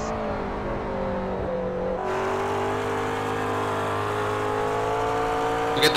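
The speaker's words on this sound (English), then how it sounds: "Both of them had to deal with the faster car of Emerson coming through past them that lap" Grand Am race cars at Canadian Tire Motorsport Park accelerating on track, a loud steady engine drone with rising harmonic pitch and a shift partway through, plus a sharp burst right at the end.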